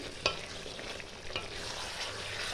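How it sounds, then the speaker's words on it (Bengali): Chicken bhuna sautéing in a pan sizzles steadily, with a couple of sharp scrapes of stirring standing out, close and continuous, no speech. "এইভাবে আরও আমি দু মিনিট কষিয়ে নেব চিকেনটা"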